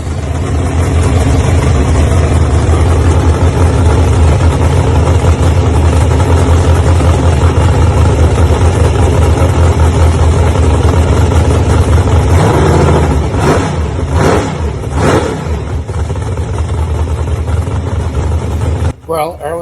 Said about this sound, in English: Erwin fired that engine up.